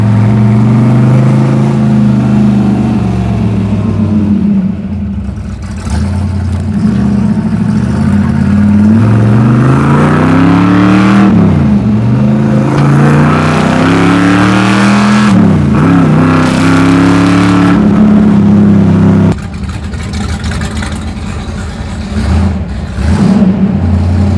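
A 1965 Shelby GT350 engine drones loudly from close range while driving. Its pitch rises and falls through repeated accelerations and gear changes, with a continuous rumble and no talk.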